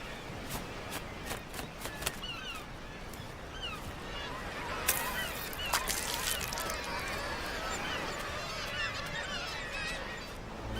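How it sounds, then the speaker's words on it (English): Seabirds crowd a rocky Arctic cliff colony where puffins nest, calling loudly and constantly with honking, cackling cries that overlap into a dense din, some calls close and sharp, others farther back. "It's seldom quiet in the rocky bird colonies"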